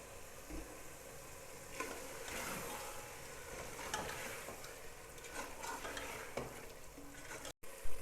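Green chillies and fresh coriander frying in oil in a pan with onions, a continuous near crackling sizzle with periodic stirring scrapes, ending in a short knock.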